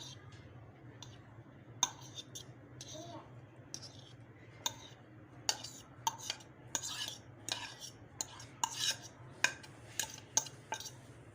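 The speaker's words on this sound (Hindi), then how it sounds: "ये मैश्ड पोटैटो में हम लोग डालेंगे जो सब्जियां हमने जो है वो फ्राई की हुई थी, वो सारी डाल देंगे।" A spoon clinks and scrapes in a bowl as fried mixed vegetables are stirred into mashed potato for kababs, a string of soft irregular taps and clicks over a faint background hum.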